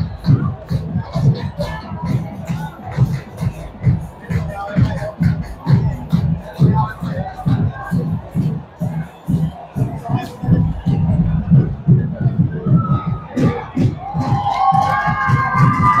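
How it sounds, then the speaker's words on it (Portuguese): Football supporters in a stadium at a Roraima state championship final, São Raimundo against Real, cheering and chanting with rhythmic pulses throughout, while a commentator talks over them. "A torcida vai fazendo a festa."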